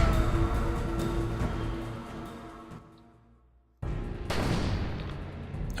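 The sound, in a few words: gunshots fired at player in Cognition video game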